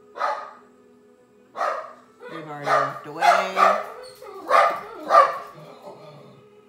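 A nearby dog lets out a series of loud barks, spaced irregularly, and a person speaks briefly partway through.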